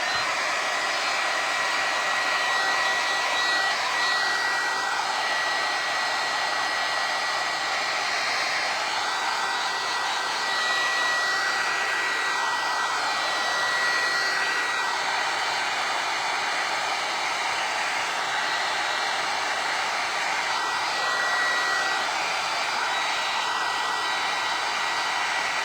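A hair dryer blowing steadily on a decoupage craft project, a loud constant airy whoosh with slight wavering, running alone and without pause for the whole stretch.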